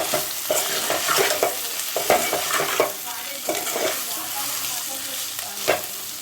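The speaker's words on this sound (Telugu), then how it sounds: "కారం, అలానే ఉప్పు వేసేసి కలిపిద్దాం." Chili powder and salt being stirred into okra frying in a pan, with a steady hiss of sizzling oil and repeated scraping strokes of a spoon against the pan, close and fairly loud throughout.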